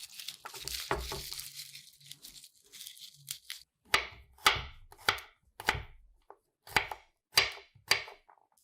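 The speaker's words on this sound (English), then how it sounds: "Now take about 10 cloves of garlic and chop them coarsely." About ten garlic cloves are chopped coarsely with a knife, giving a series of sharp, crisp chops in an uneven rhythm after some softer handling noise at the start.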